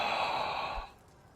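A voice imitates the rasping breath of an undead creature rising half out of the ground during a fantasy tabletop game, one long breathy exhale that fades out after about a second.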